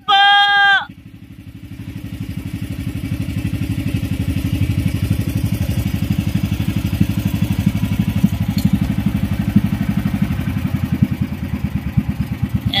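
After a brief sharp call at the start, the engine of a Philippine bangka fishing boat, throttled down, chugs in a steady rapid putter, loud and close, running continuously.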